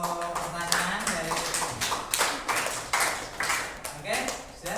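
Scattered classroom clapping bursts out for a student's question in a lesson on faith in the holy books, with several uneven rounds of claps and voices talking in between.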